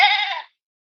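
Lambs bleat in a children's story about a lion and a boy, a single clear, fairly loud sheep-like bleat lasting about half a second and then cut off into silence.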